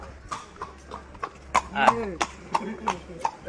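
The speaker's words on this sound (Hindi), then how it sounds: "घोड़े आ जाते हैं और आप उसका आवाज़ सुन ही सकते हैं" Horses walk along a path in the hill station of Matheran, their hooves clip-clopping in an uneven string of sharp knocks, moderately close, with a few whinny-like calls and people's voices mixed in.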